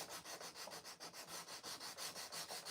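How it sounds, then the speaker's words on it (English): Steady back-and-forth scratching of hand sanding on wood with a coarse pad, rhythmic and fairly quiet, with no talking. "I'm just going to sand this because of my faulty thing"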